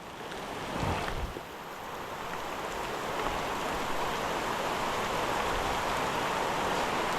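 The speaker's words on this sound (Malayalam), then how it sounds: "ഭയങ്കര മഴയാട്ടോ ഇപ്പോൾ" Dense, steady hiss of heavy rainfall at the Pamba River, constant throughout with a brief louder burst early on, no voices present.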